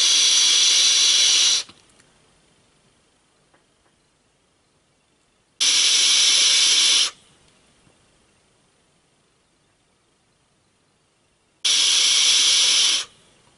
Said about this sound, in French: Vous l'avez vu, ça fonctionne très bien. Gros nuage de vapeur.